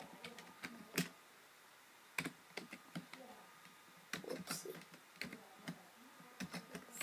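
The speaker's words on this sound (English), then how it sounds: "I'm on a bad keyboard right now" Scattered clicks of typing on a cheap computer keyboard, close and fairly quiet, in irregular bursts with pauses between.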